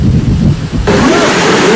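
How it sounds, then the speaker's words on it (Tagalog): Heavy typhoon rain from Super Typhoon Haiyan pours down in Santa Rosa, Laguna, starting as a low rumbling wash of wind and water, then turning into a loud, dense, hissing downpour. "Ilang minuto lang ang nakalilipas simula na makaranas tayo ng napakalakas na pag-ulan"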